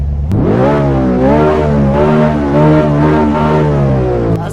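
A Tofaş car engine revs in Euro Truck Simulator 2, a steady loud rising drone with clear harmonic whine that climbs gradually and holds for several seconds, with no talking over it.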